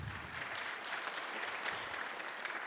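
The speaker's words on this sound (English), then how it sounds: "Woo, applause." Lecture audience applauding in a hall, a steady dense clapping wash lasting throughout, moderately loud with no pauses.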